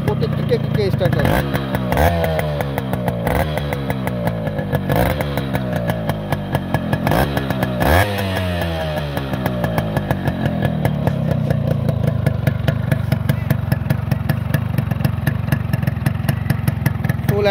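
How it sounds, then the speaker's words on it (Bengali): Modified Yamaha RX 100 motorcycle with a freshly rebuilt engine, kick-started and running: a steady two-stroke idle close by with a few sharp throttle blips rising and falling, then a continuous, louder drone. "এক কিকে স্টার্ট, প্রত্যেকটি কিকে স্টার্ট হয়।"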